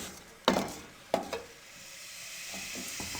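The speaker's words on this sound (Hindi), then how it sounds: "अब 1 से 2 मिनट के लिए इनको अच्छे से फ्राई कर लेंगे।" Whole spices sizzle as they fry in hot oil for chicken karahi: bay leaf, mace, green and black cardamom. Two sharp stirring scrapes come early, then a steady, close crackling sizzle continues alone.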